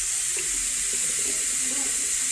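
Water runs steadily from a newly installed Toto Drake sink faucet, a close, continuous splashing rush into the basin with no talk.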